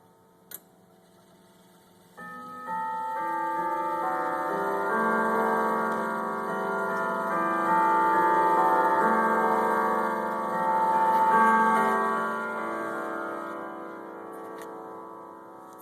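A Kieninger grandfather clock rings its St. Michael's chime, a long melodic cascade of bright bell tones starting after a brief ticking pause, notes layering and sustaining close and fairly loud over a low hum.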